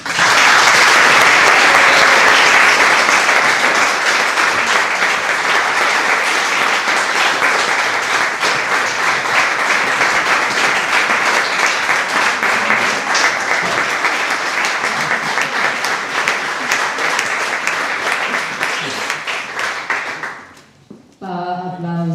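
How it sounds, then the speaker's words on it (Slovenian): Concert audience at a mixed choir's annual concert in a village cultural hall giving loud, sustained applause for a soloist, dense and even clapping that fills the room for about twenty seconds before cutting off abruptly, with brief talk at the very end. "Aplavz za Tinkaro Kovačič,"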